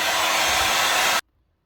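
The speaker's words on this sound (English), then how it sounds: "you can speed it up with a hairdryer" A hair dryer drying freshly applied screen printing ink blows with a steady, loud whoosh for about a second before switching off abruptly into silence.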